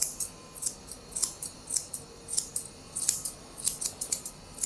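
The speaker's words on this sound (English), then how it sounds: "bringing my scissors in the front of his front leg" Scissors snip steadily in quick repeated bursts while trimming the coat on the front of a poodle's leg, angled toward the point of the shoulder in a modern grooming trim; the close, crisp blade closures come alone with no talk.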